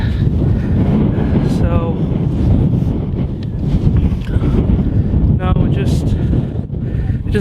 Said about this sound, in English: is a bit windy today